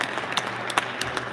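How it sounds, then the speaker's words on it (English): Audience applause fills a board meeting at East High School, a short burst of dense clapping heard up close with a few sharper claps standing out. "Let's give another round of applause there."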